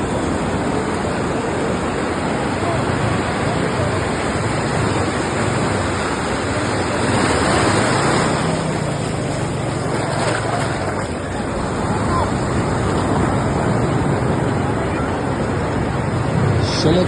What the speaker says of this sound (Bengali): সমুদ্রের গর্জন শুনলেই মনটা একদম প্রশান্তিতে ভরে যায়